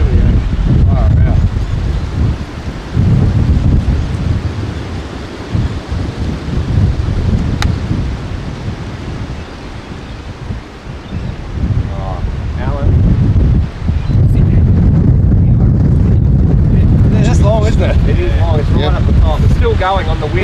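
Strong gusting wind buffets the camera microphone on a golf course, a loud, steady roar with surging gusts throughout, while people talk over it now and then.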